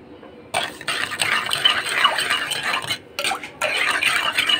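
Sugar, starch and milk stirred together in a pot for kunafa syrup: close scraping and swishing of a spoon in bursts with brief pauses, with no speech.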